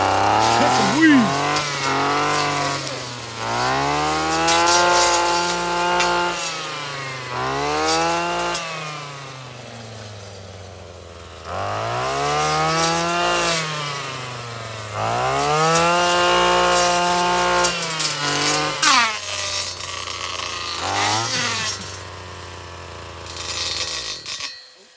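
Gas weed whacker running on fuel made from plastic, cutting weeds; the two-stroke engine revs loudly in repeated rising and falling surges, idling down between bursts, with voices talking over it.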